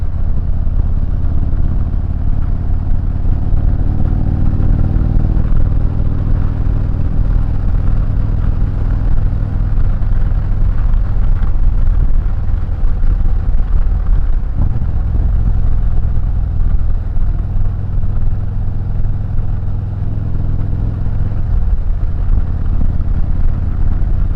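A 2020 SGS motorcycle riding along, its engine a steady mid-pitched drone with mechanical clatter and road rumble held at an even, loud level throughout.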